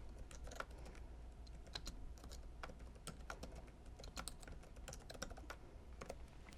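Quiet typing on a computer keyboard, a steady run of soft key clicks over a low background hum, with no one speaking.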